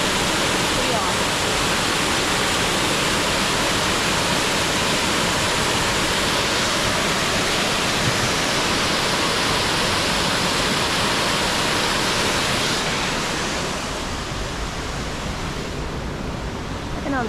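A loud waterfall roars steadily beneath a bridge, a dense, constant rush of falling water that eases slightly near the end, with a voice speaking over it.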